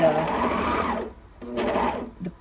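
Serger stitching quarter-inch clear elastic onto children's leggings with cuffs, running in two close, steady bursts with a short pause between them, while a person talks over it.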